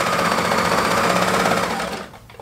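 A sewing machine stitching a children's pullover runs loud and steady at high speed, then slows and stops near the end, leaving a few faint mechanical clicks.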